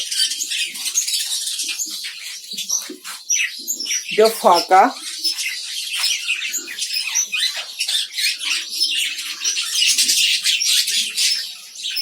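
Budgerigars in a colony breeding setup chirp and chatter continuously in dense, high twittering, with a louder warbling burst near the middle and a voice speaking briefly.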